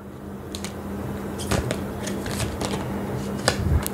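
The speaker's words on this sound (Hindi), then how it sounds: "इन कार्ड्स को मैं फिर ढंग से दोबारा से अरेंज करूँगी." Tarot cards are shuffled and rearranged by hand, producing a series of quick crisp riffling snaps and soft shuffling taps close by, set against a faint steady hum.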